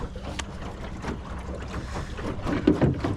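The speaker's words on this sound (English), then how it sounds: "Nice cruise around the lake." A boat cruises on a lake with a low rumbling hull and engine noise mixed with wind buffeting the microphone, steady and close.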